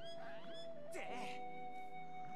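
A cat meows in The Legend of Zelda: Skyward Sword HD, a short game-creature cry layered over steady in-game music and sound effects.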